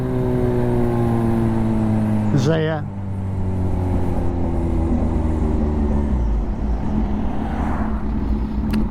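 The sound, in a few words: road traffic heard while riding a motorcycle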